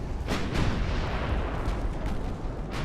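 Warship gunfire in the naval battle game Ultimate Admiral: Dreadnoughts, with pre-dreadnought battleships trading fire as a steady low roar of distant cannon booms and rumbling blasts throughout.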